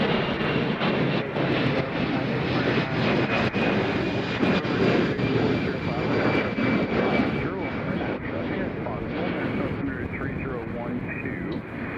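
A passenger airliner landing on runway 20 left at Nashville International Airport, a steady broad roar of jet engines filling the whole stretch without letting up, loud and sustained.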